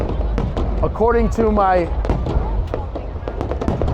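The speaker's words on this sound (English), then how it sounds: "the fireworks are supposed to go on for 15 minutes" New Year's Eve fireworks burst over the Saigon riverside, with several booming thumps and crackles heard under a person talking close by.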